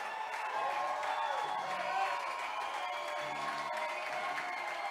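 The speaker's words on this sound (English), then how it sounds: "The crowd is on their feet," Baseball crowd at an Atlantic League championship game in Lancaster cheering and applauding on its feet, a loud sustained roar with clapping that swells and holds steady, no talk over it.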